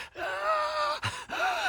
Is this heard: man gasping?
yes